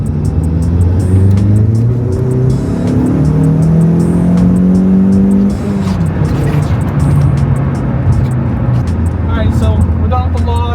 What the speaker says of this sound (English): Third gear, 1500, and floor it.